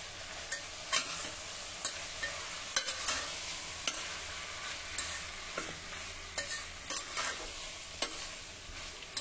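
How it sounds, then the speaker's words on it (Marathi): Washed rice tipped into a hot pan of freshly pounded spices and dry coconut slices, then stirred: a steady sizzle with repeated sharp scraping strokes of the spoon at an irregular rhythm, close and fairly loud, with no talking. "आता आपण धुवून ठेवलेले हे तांदूळ घालूया।"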